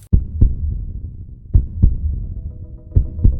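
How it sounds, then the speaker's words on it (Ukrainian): Heartbeat in a steady lub-dub rhythm, three paired thumps spaced about a second and a half apart, deep and close with a faint hum beneath and no voices. "Так лунає звук серця."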